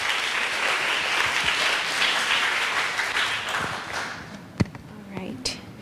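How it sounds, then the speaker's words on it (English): Audience at the Hult Prize at Chula grand finale applauding the judges, steady broadband clapping that tapers off toward the end, with a few sharp isolated claps and a voice briefly near the close. "Please give them another round of applause"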